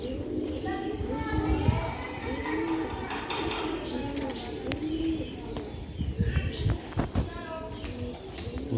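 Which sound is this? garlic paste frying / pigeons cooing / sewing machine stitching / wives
pigeons cooing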